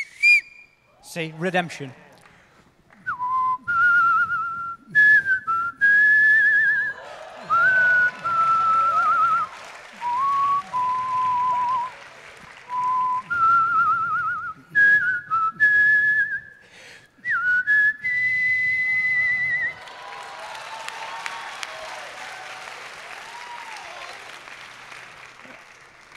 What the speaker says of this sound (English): She's really good at whistling the loud thing. The come here whistle